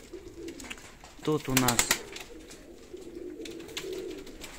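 Armenian pigeons coo in a short burst of throaty, rolling calls at close range, with someone talking quietly before and after.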